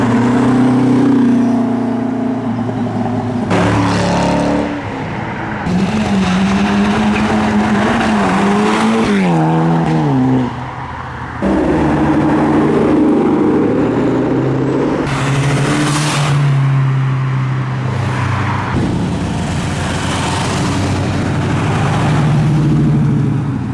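Modified and classic cars leave a car show one after another, engines revving loudly and rising in pitch as they accelerate away, with gear changes and a brief dip between passing vehicles.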